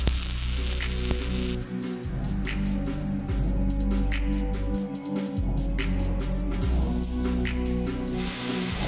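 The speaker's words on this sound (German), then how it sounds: "Was ich jetzt mache, ist ganz, ganz schnell schön die kleinen 40er abschweißen, damit ich die Platten montieren kann." Small steel parts of a heavy-duty shelf are welded, giving a steady crackling sizzle with sharp ticks and a low electrical hum underneath as the arc starts and stops several times.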